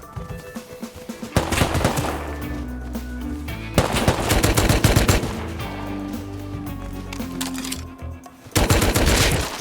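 Gunfire in the survival game Rust rattles out in several loud, sustained automatic bursts, close and dense, with brief gaps between strings of shots.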